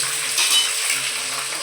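Chopped onions hit a hot pan for chicken biryani with a brief metallic clatter, then a broad hiss of frying sizzle spreads out close and steady, no voices present.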